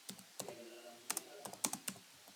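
Keys on a computer keyboard are tapped in short, uneven bursts as C++ code for a GP series sum program is typed, close and fairly crisp, with no voice over it.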